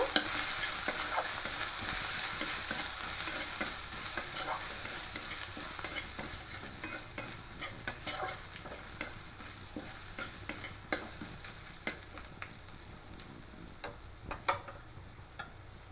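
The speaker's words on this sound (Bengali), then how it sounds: "আদা দিয়ে দেবো দিয়ে ভালো করে আর মিশিয়ে নেব" Ginger stirred into a frying watermelon-rind mixture in a pan, a steady close sizzle with scraping and clicking spoon strokes throughout, no voices.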